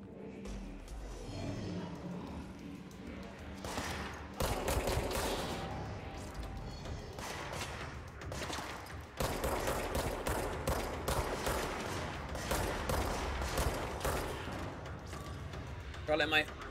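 Sustained bursts of weapon fire and impacts in the video game Control, loud rapid volleys continuing through most of the stretch, with someone talking over them.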